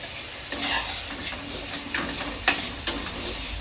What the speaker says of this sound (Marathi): छान प्रकारे परतून घेते कांद्यांना.